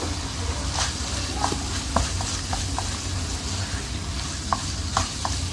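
Keema with tamarind paste frying in a pan, a steady close sizzle with a spoon stirring and scraping against the metal every so often, and no talking.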